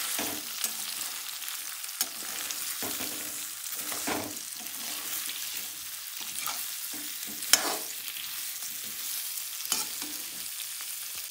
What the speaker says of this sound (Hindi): तो एक बार इसको मिक्स कर लेते हैं इस तरीके से